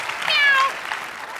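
A cat meow sound effect plays over studio applause on a television game show, bright and loud, with the meow lasting about half a second near the start before the clapping carries on.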